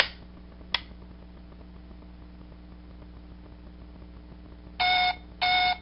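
A quiet hum with a single sharp click, then two short bursts of electronic beeping near the end from a toy Star Trek communicator.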